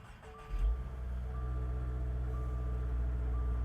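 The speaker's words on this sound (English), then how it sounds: "let's turn on the car. Ready? Let's push the clutch in. It's neutral, and let's turn it on." A 2022 Subaru WRX Premium with a manual gearbox starts up close by: a short cranking burst catches into a steady, rumbling idle with a faint tonal whine that holds to the end.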